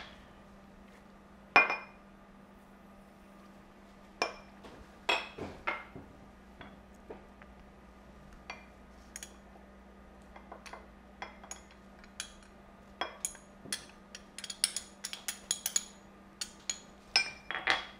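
Ingredients for vegan chocolate shortbread cookies go into a small container on a countertop, giving scattered light clinks and taps that grow busier toward the end, quiet and close.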